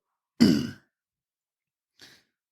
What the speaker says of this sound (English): I keep clearing my throat on the goddamn microphone